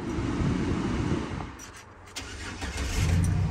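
A pickup truck's 4.3-litre six-cylinder engine cranks briefly, then catches and settles into a low, steady idle, close by and fairly loud.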